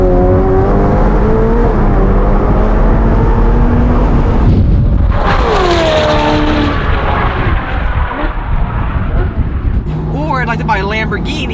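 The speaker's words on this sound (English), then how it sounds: "I would like to buy a Ferrari for that wailing Ferrari V8." A loud high-revving Ferrari V8 engine wails and climbs in pitch, roaring up through the gears with rising and falling harmonics, close and dominant.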